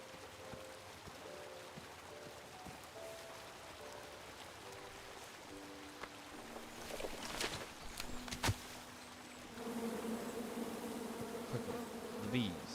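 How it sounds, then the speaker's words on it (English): Bees buzzing in the King's Quest video game: a steady droning hum at moderate level under a layer of game music and background ambience, swelling louder in the final few seconds. "Quickly, the bees."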